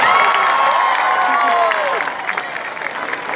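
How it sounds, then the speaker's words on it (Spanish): A large concert crowd in Guayaquil, Ecuador bursts into loud applause and cheering for the local food at a show, a close, dense wall of clapping and shouts that eases slightly toward the end. "Un fuerte aplauso por la comida de este país."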